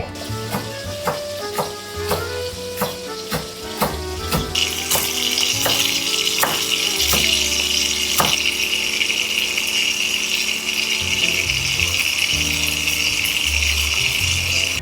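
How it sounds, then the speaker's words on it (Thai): Beef sizzles in hot oil with dried chillies. A series of sharp clicks and pops comes first, then a loud, steady frying hiss that continues close up. "ผมจะนำพริกแห้งเนี่ย ไปทอดร่วมกันด้วยนะครับ ค่อยๆ ทอดไปด้วยกัน"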